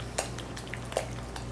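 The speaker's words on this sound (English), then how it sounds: "And we're just going to skeet, skeet, skeet, and stir that up." Yellow mustard is stirred into a mixture in a kitchen bowl, giving a few faint scraping clicks of a utensil over a low, steady background hum.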